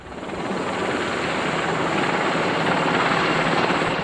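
A Lynx military helicopter flies close by, its dense rotor and engine roar steady and loud throughout, with no other sounds.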